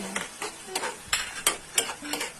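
Shrimp fry in a hot pan while a utensil stirs and scrapes, sending out a steady sizzle broken by about eight sharp, close scraping strokes in an uneven rhythm.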